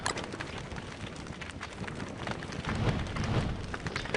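A continuous rain-like hiss of winter snow weather in the Don't Starve video game, steady and dense with a low rumble that swells slightly toward the end.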